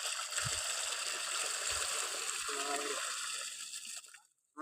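Water poured from a pot splashes in a steady, continuous stream for about four seconds, then stops abruptly, with voices talking nearby.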